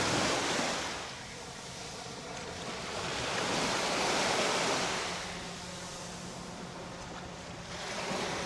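Surf rolls onto the quartz-sand shore of Siesta Key beach in Florida in broad, swelling washes that rise and fall, with wind buffeting the microphone throughout.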